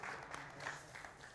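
Studio audience applause on a Saturday television variety show, a dense, steady wash of clapping at moderate level filling the whole short stretch without pause.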